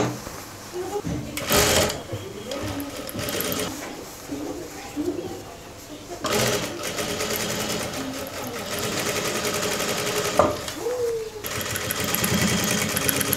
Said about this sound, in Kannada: ಈಗ ಮತ್ತೆ ಪ್ಯಾಂಟ್ನ ಟರ್ನ್ ಮಾಡಿಕೊಂಡು ಮತ್ತೆ ಅದ್ರ ಮೇಲೆ ರೀಸ್ಟಿಚ್ ಮಾಡ್ಕೊಳ್ಳಿ